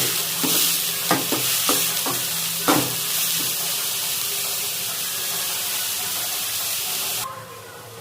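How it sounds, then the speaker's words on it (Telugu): Green chillies and onion frying in a pan as they are stirred, a loud continuous sizzle with several sharp scraping strokes of the spoon early on, then steady hiss that drops off abruptly at the end. "ఫస్ట్ పచ్చిమిర్చి వేయించుకుందాం. ఆనియన్ వేసుకుందాం. ఒకసారి కలుపుకుందాం."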